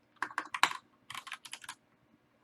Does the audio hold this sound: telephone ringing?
no